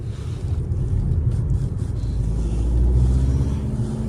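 An Opel Insignia B with a 170 hp engine driving smoothly, a low steady engine and road rumble from inside the cabin, continuous and even.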